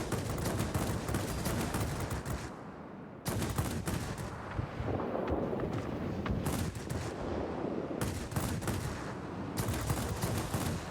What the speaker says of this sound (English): You'll see I'm managing those cannons very carefully, trying not to overheat.